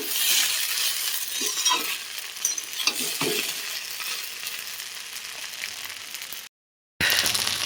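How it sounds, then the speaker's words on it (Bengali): Pasta frying in a pan on a gas stove while being stirred, a continuous sizzle with scraping stir strokes and light clinks, cutting off briefly before resuming. "পাস্তা ভাজা প্রায় হয়ে গেছে"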